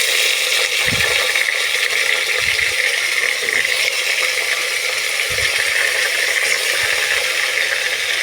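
Meat dropped into a pan of fried onion, ginger and garlic: a loud, continuous sizzle and crackle of frying throughout, with a few low thumps of stirring or handling.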